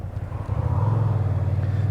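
A car on a local road passes close by at about 30, its engine a steady low rumble that builds over the first half second and then holds loud and constant.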